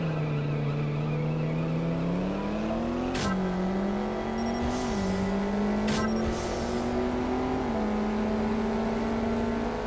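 Engine of a race car in the CSR Racing video game drag-racing a Nissan 370Z, a loud steady roar with rising revs broken by sharp gear shifts, heard alone throughout.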